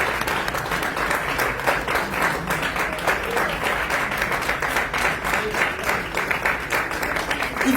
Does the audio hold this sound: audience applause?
yes